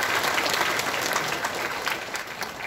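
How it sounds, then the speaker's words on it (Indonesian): An audience gives brief, dense, steady applause for the Director General at a Muhammadiyah Hajj gathering in Makkah. "Tepuk tangan dulu untuk beliau."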